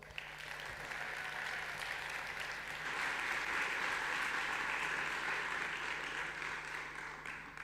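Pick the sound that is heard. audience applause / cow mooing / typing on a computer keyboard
audience applause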